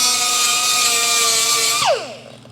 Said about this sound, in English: then you just take a little sander